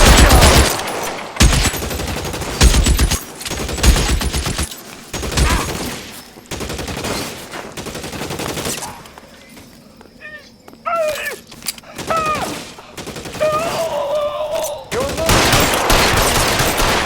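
Gunfire in the crime game LA Noire: loud bursts of rapid shots and fusillades in the first half, then quieter scattered sounds with music-like tones, and heavy firing again at the end.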